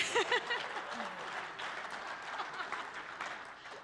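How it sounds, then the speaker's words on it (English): Audience at a men's fellowship breakfast applauding a panel member, a steady patter of clapping from a modest crowd, briefly overlapped by a voice at the start. "So I think he deserves a round of applause."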